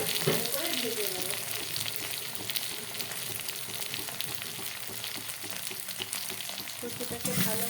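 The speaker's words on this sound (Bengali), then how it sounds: "তারপরে কচুটাকে ভালো করে ভেজে নেব।" Pieces of taro (kochu) frying in a pan give a faint, continuous crackling sizzle with occasional soft stirring scrapes, heard at low level throughout.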